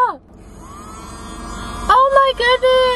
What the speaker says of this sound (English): I cannot believe I just got a little mini vacuum